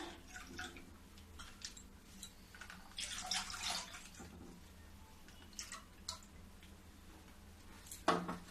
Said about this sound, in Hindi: अब 1 किलो दूध मैं इसमें डालूंगी। ये अमूल की फुल क्रीम दूध है।